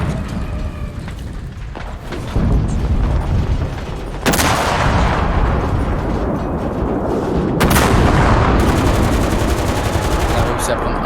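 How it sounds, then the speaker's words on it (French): Gunfire in the first-person shooter Enlisted: dense, loud bursts of rapid shots and booming blasts run continuously, with sharp louder cracks breaking through, while a voice speaks faintly underneath. "je vise là où on me tire dessus et on me tue"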